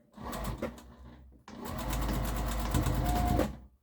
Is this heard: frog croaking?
no